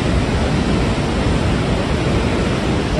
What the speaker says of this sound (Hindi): बाजू से नदी जा रही